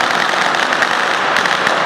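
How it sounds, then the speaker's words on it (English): Firecrackers at a Chinese New Year parade crackle loud and dense in a continuous rapid-fire barrage with no pauses. "There were fireworks."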